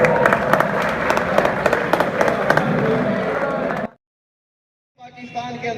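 Audience applause and cheering at a political rally in Gojra, a dense burst of clapping lasting about four seconds before cutting off, followed by faint crowd noise.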